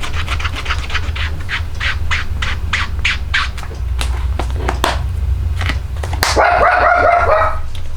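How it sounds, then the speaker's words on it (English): A dog barks in a steady, rapid string of sharp yelps, then gives way to a harsher squawking burst near the end. "I am so sorry about his barking."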